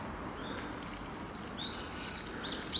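A brown-eared bulbul calls in a wooded park biotope: a drawn-out high shrill note followed by a shorter one, moderately distant over a soft outdoor hiss.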